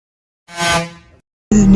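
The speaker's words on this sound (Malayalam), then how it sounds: "ഇവരെന്താ ഹോൺ അടിക്കുകയാണോ?" Two loud vehicle horn blasts, a brassy honk under a second long followed by a shorter, harsher second blast after a brief silence.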